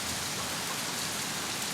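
Rain falls steadily in a seaside village, a dense, even hiss of drops on surfaces that holds constant at moderate loudness with no voices.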